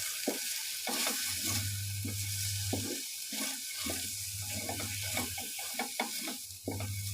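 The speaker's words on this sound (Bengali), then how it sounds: "এই সব মশলাগুলোকে আমি এর সাথে ভালো করে কষিয়ে নেব" Spices with red chili powder, turmeric and salt frying for a raw banana curry, a constant close sizzle with repeated spatula scrapes and stirring knocks at an uneven rhythm, alongside a low steady hum, no voices.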